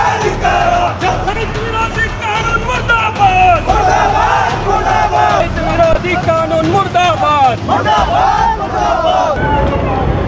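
Farmers of the Karnataka Prant Raitha Sangh chanting slogans at a protest rally in Gulbarga, a loud, continuous crowd of many shouting voices in rhythmic calls, with outdoor wind noise.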